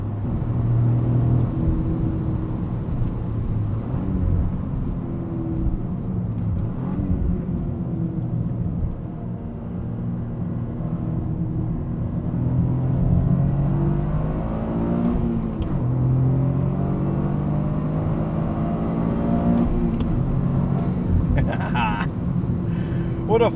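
A 2026 Toyota GR Corolla 300 hp hot hatch with active sound control switched off, its engine revving through a downshift on a city drive with subtle exhaust pops and burbles, steady and close throughout while someone talks over it.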